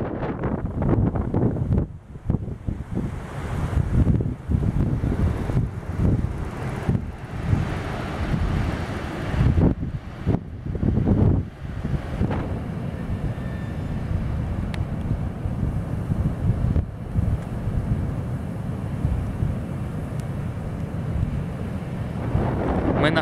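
Strong wind buffets the microphone on a beach during a hurricane, mixed with the roar of storm-driven sea surf, the gusts booming and dropping in loud waves throughout, with no voices heard.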